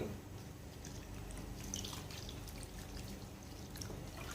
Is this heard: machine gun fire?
no